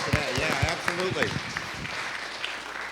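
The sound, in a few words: audience applause at a town hall meeting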